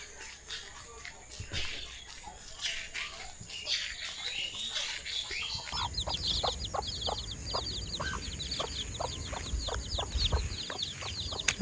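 Chickens cluck in a rural Rangpur setting with steady, rhythmic clucks in the latter half, beneath a voice talking over a busy outdoor backdrop.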